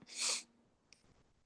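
A single sharp sneeze bursts out close by, followed by a soft breath and quiet room tone.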